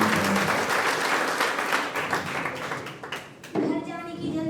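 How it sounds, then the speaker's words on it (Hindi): Schoolchildren applauding together during a traffic-safety talk at school, a dense burst of clapping that fades briefly before a voice speaks over a renewed patter of hands. "तालियां बजाइए।"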